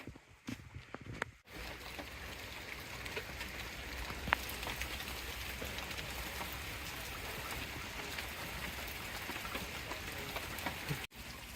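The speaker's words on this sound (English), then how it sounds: "probably won't be able to see any rain because I can hardly see it myself, but you probably hear it" Light rain pattering steadily on surfaces at an abandoned campground on the Florida Trail, a soft continuous hiss with scattered drips, close and even throughout.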